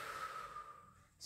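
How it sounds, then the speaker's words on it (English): A deep inhaled breath during a pilates mobility exercise, a steady airy rush lasting about a second, close to the microphone, with no talking over it. "Deep breath in and"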